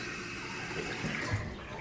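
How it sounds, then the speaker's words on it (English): A home tap runs steadily with hot and cold water, a continuous splashing gush at close range with faint clatter on top, heard alone without talk. "Hot, cold, running water, all that."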